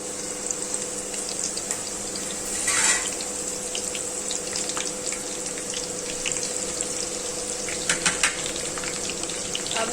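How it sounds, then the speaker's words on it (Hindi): Onions frying in leftover pakora oil for Punjabi kadhi, a steady close sizzle and crackle with brief louder spits partway through and near the end, with no speech. "सबसे पहले हम प्याज डालेंगे और इसको फ्राई करेंगे।"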